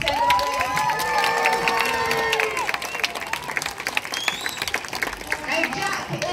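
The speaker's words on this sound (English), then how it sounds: "Everyone give Jack a cheer before we send him away." An audience at a sea lion show in a UK safari park cheers and claps loudly, with a dense, continuous crowd roar and whistles over about six seconds.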